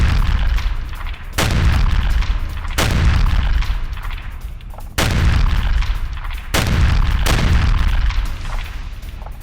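Heavy artillery fire and explosions near Bakhmut, with four loud, sharp booms each trailing into a long rumbling decay over steady low battlefield roar.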